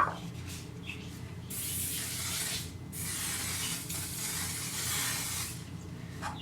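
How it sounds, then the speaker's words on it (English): Hairspray hisses from an aerosol can onto a 1950s-style bobbed hairdo in steady bursts, one long spray then another, close and fairly loud with no talking. "we're gonna top it off with some hairspray."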